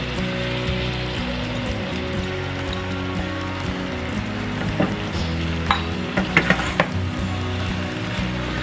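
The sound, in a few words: soaked red lentils added to sizzling pan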